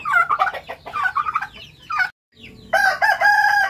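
Black meat chickens crow loudly and cluck in close, repeated bursts, with a brief silent gap midway before another long crow rings out.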